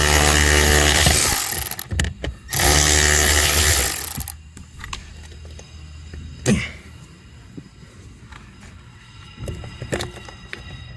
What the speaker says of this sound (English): we're gonna get the blower motor resistor out and get everything out with an electric ratchet